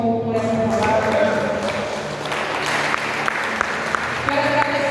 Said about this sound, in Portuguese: Quantos podem aplaudir o Senhor por essa palavra?